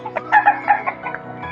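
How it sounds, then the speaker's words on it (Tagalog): Chickens cluck in a quick, uneven series of short calls nearby while being fed, several birds overlapping in a busy flurry. "Tapos si Tata Ricky nagpapakain ng manok."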